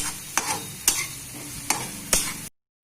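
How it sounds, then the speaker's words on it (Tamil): Onions are sautéed with salt in a pan, a steady sizzle broken by four sharp scraping stirs at regular intervals, close and alone, then cutting off abruptly. "நல்லா கோல்டன் ப்ரௌன் வர வரைக்கும் நீங்க வந்து வதக்கிக்கோங்க"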